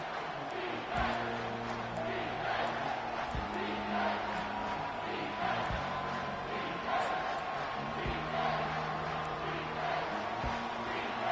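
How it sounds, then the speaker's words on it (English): A football stadium crowd in a Maryland vs Oregon college football game roars on third down. The sustained, loud, dense roar carries steady low musical tones underneath. "this crowd is bringing down the house"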